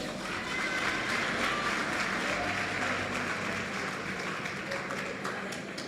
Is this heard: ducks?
no